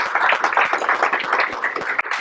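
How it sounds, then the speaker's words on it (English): An audience claps together in sustained applause at a JavaScript meetup talk, a dense close patter of many hands that holds steady throughout without voices. "Let's give a round of applause."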